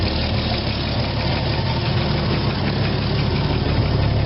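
A 1979 Ford F100 Custom pickup engine idles steadily and close by, fitted with a freshly swapped Chinese carburetor, its rough mid-low rumble running unbroken throughout with no talk over it.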